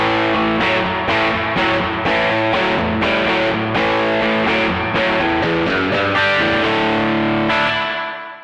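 An electric guitar, boosted for extra volume into the amp, rings through a TC Electronic Arena spring reverb pedal, strumming loud chords with reverb tails before the last chord fades out.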